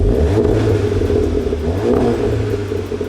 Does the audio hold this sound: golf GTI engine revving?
yes